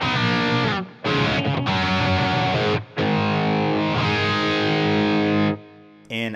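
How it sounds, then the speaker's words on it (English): Electric guitar played through a Phase 90 phaser in a Line 6 Helix preset, distorted chords ringing loud and sustained in several phrases separated by brief gaps, with the sweep kept subtle. "Phase 90 phaser."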